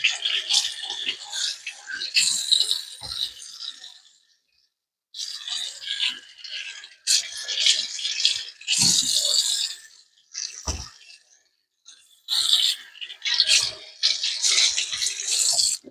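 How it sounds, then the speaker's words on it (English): Strawberries being rinsed under a running tap, water splashing and hissing in close bursts with short pauses between them, no talking. "Just a quick rinse."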